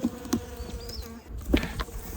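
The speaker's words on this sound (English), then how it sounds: "I just realized that this wisteria is full of bees." Bees buzz around a flowering wisteria, several close passes droning in and out over a soft outdoor background, with no talk.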